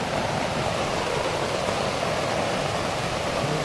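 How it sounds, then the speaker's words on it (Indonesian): Heavy rain pours at a simple garden hut, a dense, loud, unbroken roar with no distinct drops or pauses. "Hujan saudaraku."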